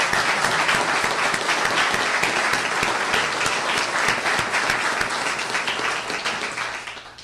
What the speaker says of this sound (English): Please join me in giving all of them a big round of applause.